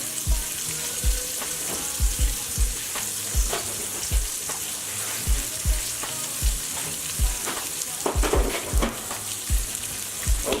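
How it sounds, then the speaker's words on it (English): Kielbasa sausages browning in a frying pan for homemade spaghetti and meat sauce, a steady loud sizzle with regular soft knocks and scrapes from turning the links, close up and with no voices. "make sure these are brown on both sides of this sausage"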